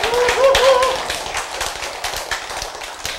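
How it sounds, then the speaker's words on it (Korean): Scattered audience clapping in a lecture hall, irregular sharp claps of moderate loudness, with a voice briefly heard at the start. "여러분이 박수를 외쳐요"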